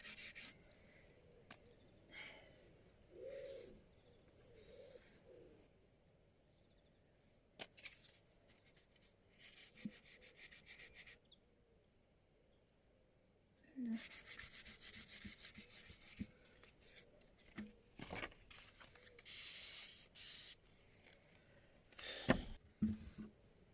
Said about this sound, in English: sand that smooth.